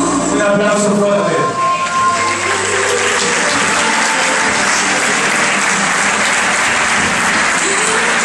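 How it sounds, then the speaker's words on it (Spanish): Loud, sustained applause from a crowd at a Roberto Piazza haute couture fashion show in the Edificio Lahusen, a dense, even clapping that runs throughout while an announcer's voice carries over it. "Un aplauso fuerte."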